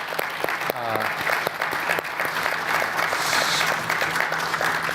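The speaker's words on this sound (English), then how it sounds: "Let me suggest we give them a round of applause." Sustained audience applause for a panel at a high-level capacity development talk on Africa's economy, steady and fairly loud throughout, with a brief voice heard early on.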